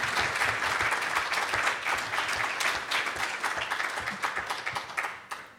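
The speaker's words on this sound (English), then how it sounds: "let's go ahead and give a round of applause to Maria Angelis Gallego Garcia" Audience applause greets the first presenter at a Monday morning conference session, a full room of steady clapping that stays strong, then thins into scattered separate claps as it fades.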